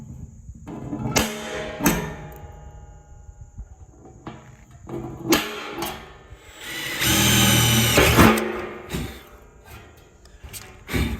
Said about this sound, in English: we'll drill those next